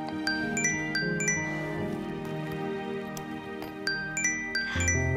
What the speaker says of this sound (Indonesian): Kita angkat telepon Om Jamie dulu ya